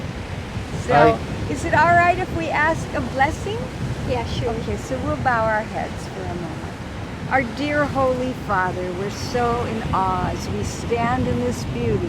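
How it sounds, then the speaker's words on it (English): Ocean surf rolls steadily onto a Hawaiian beach during an outdoor wedding ceremony, a constant wash of noise beneath a voice as he speaks and prays close to the microphone. "we can hear the sound of the ocean"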